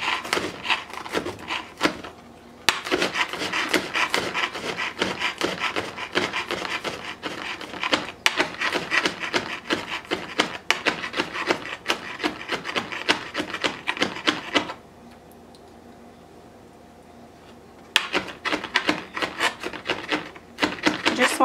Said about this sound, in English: so we're gonna go ahead and chop this up